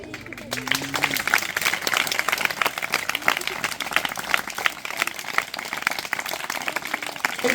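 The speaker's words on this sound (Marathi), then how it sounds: "जोरात टाळ्या वाजल्या" Loud, dense clapping from a group celebrates a 6-inch Ganesh idol just lifted out of its mould, the applause sustained throughout with voices mixed in.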